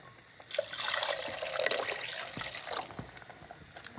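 Tap water runs steadily into a sink while ground masala is rinsed during home cooking of a chicken dish, a broad splashing rush starting half a second in and easing after about three seconds.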